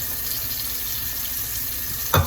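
Steady running water from a tap while rinsing tie-dyed fabric, a constant close hiss with a short splash or clunk near the end.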